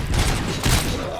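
Gunfire in the Robocop Rogue City video game: two loud bursts of shots with a rumbling low end, close and dense, with voices partly mixed in.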